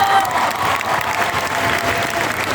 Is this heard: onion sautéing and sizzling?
no